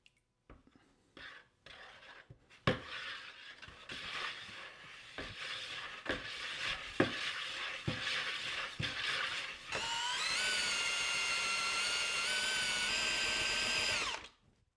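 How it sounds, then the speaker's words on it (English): A paddle mixer stirring separated pottery glaze in a bucket: scraping, clattering strokes and knocks at first, then a steady electric whine of the mixer motor running continuously for several seconds before stopping, close and fairly quiet. "So I need to give this a good mix, and I'll just use my paddle mixer for that"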